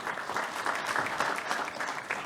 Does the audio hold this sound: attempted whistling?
no